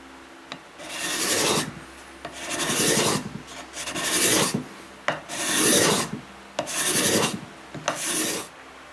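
Dull edge of a steel cabinet scraper card rasping across a wood surface, producing dust instead of shavings: five loud, close scraping strokes in a steady back-and-forth rhythm with brief pauses between them, no talking.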